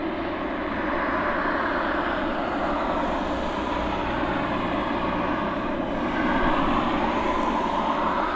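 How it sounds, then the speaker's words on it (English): Cargo Logic Air Boeing 747 freighter being pushed back at East Midlands Airport, a steady, moderately distant engine drone that holds evenly throughout without pauses. "The Cargo Logic Air 747 freighter is now on the move, getting pushed back."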